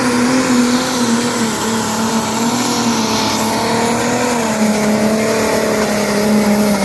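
Pulling tractor at a tractor pulling event in Sonsbeck, its engine screaming at extremely high RPM in a loud, sustained, steady howl held at nearly constant pitch for the whole stretch, with no talk.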